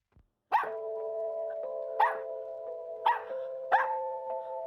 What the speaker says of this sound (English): Oh, hey, doggy.